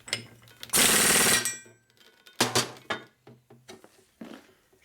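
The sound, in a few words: tightening a nut on a Harley flathead motor build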